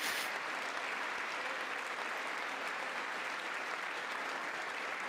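A large audience at the State of the Union clapping, producing a dense, steady wash of applause that holds at an even level throughout.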